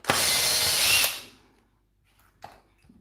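A cordless drill briefly whirs for about a second while unscrewing the head of a rusty brushed angle grinder, then stops, followed by a faint click of handling.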